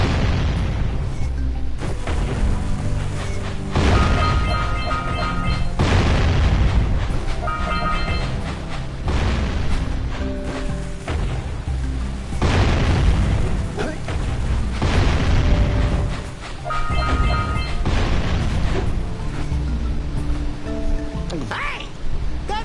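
Cannon fire in Jak and Daxter: The Precursor Legacy, heavy booming blasts that repeat every few seconds over a rumbling, clattering game soundtrack, with no talking during the shots.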